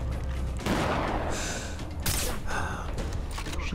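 Gunfire in Far Cry 3, loud, dense bursts of shots and booms filling the whole stretch with sustained crackle and a sharp blast near the middle.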